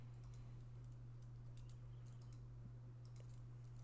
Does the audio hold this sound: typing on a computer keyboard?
yes